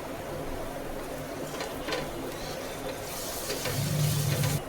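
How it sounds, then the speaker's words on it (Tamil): Onions and ginger garlic paste sautéing in a pan for prawn biryani give a steady, close, gentle sizzle that grows louder and brighter toward the end, with no talking. "இஞ்சி பூண்டு பேஸ்ட் போட்டதும் நல்லா வதக்கிக்கோங்க"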